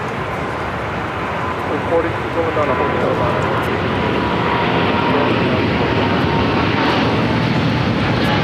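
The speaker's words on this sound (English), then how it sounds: "Air France Flight 23 taking off to Paris, Charles de Gaulle on a 777-300ER." An Air France Boeing 777-300ER takes off from LAX for Paris Charles de Gaulle. Its steady, moderately loud engine rumble fills the whole stretch and grows slightly stronger toward the end.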